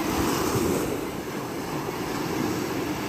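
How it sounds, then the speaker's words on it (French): Steady wash of ocean surf rolling onto the beach, a broad continuous rushing noise without voices. "Écoutez les bruits des vagues."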